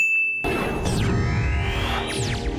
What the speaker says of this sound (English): An altered chime synth does not indicate the path to your fortune cookie destination.